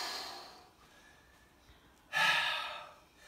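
A single deep breath during a Shaolin kung fu leg-strengthening workout: a loud, close, breathy rush that swells suddenly, holds for about a second and fades, after a quieter stretch of softer breathing.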